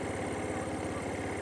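A 2024 Peugeot Becane 33 Nejma motorcycle engine idles with a steady, rapid low pulsing, close and continuous.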